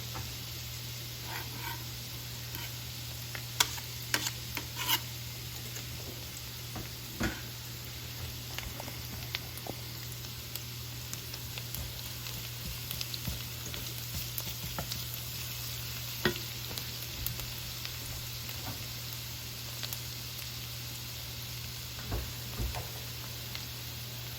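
Garlic hits a pan for a creamy beef stroganoff made with ground turkey, setting off a soft, even sizzle with a few sharp ticks and pops over a low steady hum, close and without speech.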